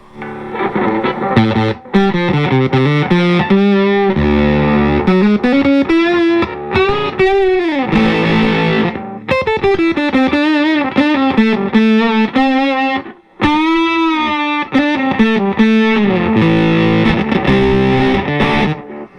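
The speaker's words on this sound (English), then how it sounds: "it's got a really nice octave sound to it" Electric guitar runs through a Blackout Effectors Twosome octave fuzz pedal, playing loud sustained melodic phrases with brief pauses between them.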